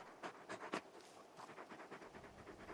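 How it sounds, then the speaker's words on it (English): Torgal, a large wolf-dog companion in the video game Final Fantasy XVI, panting: faint, quick, rhythmic breathy puffs in an irregular series, quiet and close with no talk over them. "just a big puppy, aren't you? A very big puppy."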